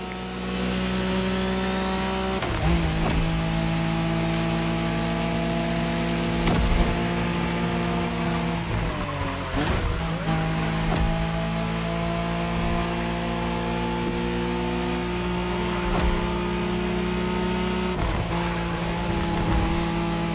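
A Nissan Skyline races in The Crew Motorfest, its engine a loud, sustained high-revving whine that climbs and drops with gear shifts at about 2.5, 7, 10 and 18 seconds, with brief tire noise and no talking.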